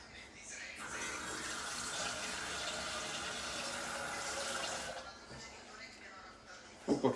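Tap water pours into a pot to be boiled for a fish soup, a steady rushing flow that runs for several seconds before easing off, followed by a brief knock at the end.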